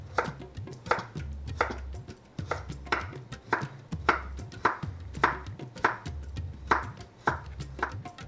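A knife chops a carrot into thin half moons on a cutting board, about a dozen crisp, evenly spaced cuts close by, with no talking.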